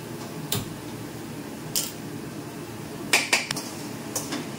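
Metal pots and utensils clatter in a home kitchen while washed rice is put on to cook. Several sharp, separate knocks and clinks come close by, two of them grouped near the end.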